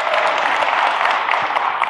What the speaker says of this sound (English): let's get one more round of applause for InvestFest